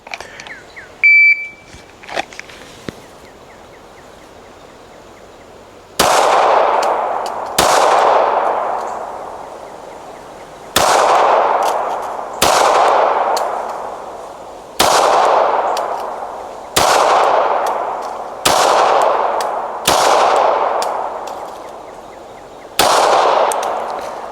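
Gunshots fired at an outdoor shooting range during a slow-paced practice session: about nine loud, sharp reports at irregular intervals, each ringing out and decaying before the next shot, alone after a brief quiet start.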